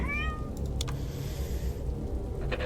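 A cat meows in a horror video game set in a dark building, a short rising-and-falling call near the start over a steady low ambient hum, followed by a brief soft sound and then quiet drone.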